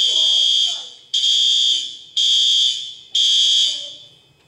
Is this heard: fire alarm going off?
yes